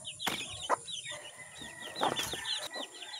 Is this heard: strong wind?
no